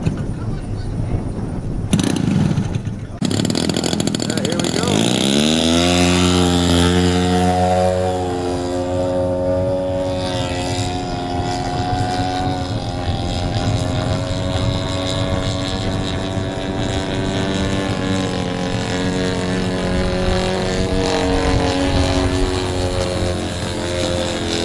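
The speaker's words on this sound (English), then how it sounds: "fixing to take his plane up" Radio-controlled model airplane engine at an R/C club fly-in, starting after a few sharp bursts and then running steadily with a high buzzing whine that rises in pitch and holds, loud and near, with no talk over it.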